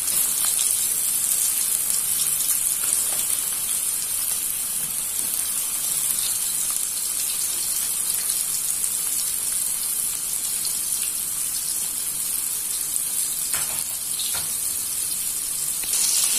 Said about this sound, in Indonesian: Dan di sini untuk lelenya ini saya goreng.